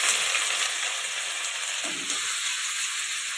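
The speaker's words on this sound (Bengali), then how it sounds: "এবার আদা রসুন কুচিটা দিয়ে দিচ্ছি," Chopped ginger and garlic frying in hot mustard oil in a kadai, a continuous bright sizzle that stays steady and close throughout with faint stirring scrapes, with no talking.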